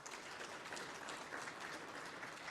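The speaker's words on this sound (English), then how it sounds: "We can give him a round of applause." Very faint, steady applause from a crowd at a ceremony of traditional leaders in Namibia, honoring a guest with continuous soft clapping.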